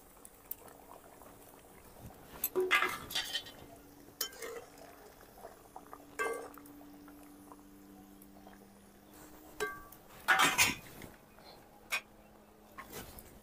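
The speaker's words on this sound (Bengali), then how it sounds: "দিয়ে দিচ্ছি ভেজে রাখা বেগুন।" Fried brinjal added to a simmering pan of curry with pabda fish, soft splashes and clattering stirs over a low bubbling boil, fairly close and quiet.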